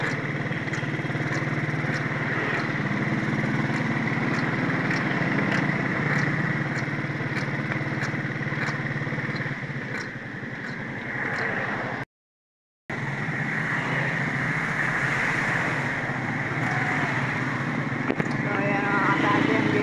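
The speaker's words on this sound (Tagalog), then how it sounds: "Maingay ang ating motor, sira ang bearing." A motorcycle engine with a broken bearing drones steadily throughout, rough and noisy with a rattling, ticking undertone, briefly cutting out before resuming.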